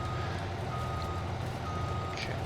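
Reversing beeps from a harvesting vehicle backing up in the farming game Farming Simulator 22, a regular electronic beeping over a constant low engine drone, alone and steady throughout.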